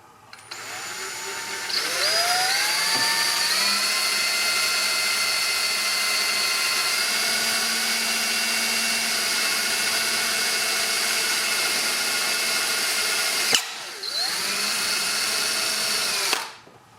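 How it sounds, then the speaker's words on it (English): A power drill boring a hole for a motorcycle LED indicator whines steadily at full speed for about eleven seconds, pauses briefly, then runs again in a second short burst, loud and close with no talking. "I got my hole drilled"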